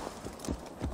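Hooves clip-clopping in a steady galloping rhythm as a horse is ridden in the video game Assassin's Creed Valhalla, clear and close for a brief moment.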